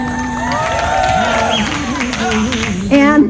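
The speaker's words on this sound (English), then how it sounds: "Let's give her a round of applause." An audience at an awards event claps and cheers, with whoops and a voice over the steady applause.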